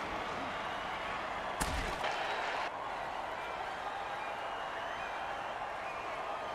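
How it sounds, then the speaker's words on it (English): Home crowd noise in a football video game, a steady stadium murmur with a brief sharp burst of cheering and applause early on before settling back to a broad, continuous roar. "The home crowd isn't impressed with that showing"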